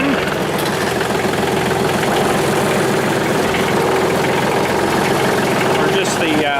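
A John Deere tractor engine idles nearby in a steady, loud low rumble with a regular knocking pulse, running throughout beside a sweeper attachment at a farm workshop.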